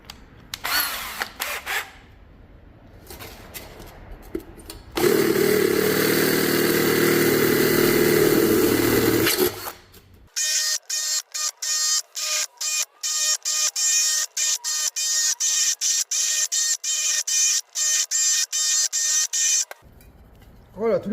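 An electric drill bores 10 mm holes through a tin can being made into a wood-gas stove, with a loud steady grinding burst followed by a long run of rapid, rattling chatter that cuts off abruptly.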